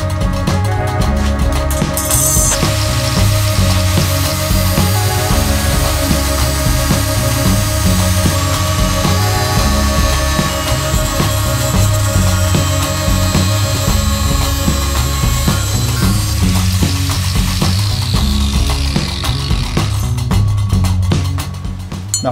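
Steel perforated metal strapping, such as Superstrut/Unistrut strapping for a DIY roof rack, is cut with a power tool in a steady, loud, continuous grinding whine with harsh rattling that runs for the full span and trails off briefly at the end.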